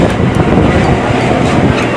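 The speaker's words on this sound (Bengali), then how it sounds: "আপনারা দেখতেই পাচ্ছেন আমি ট্রেনের মধ্যে উঠে গেছি" Loud, steady rumble inside a moving passenger train, with continuous low rolling noise and faint periodic clicks, no speech.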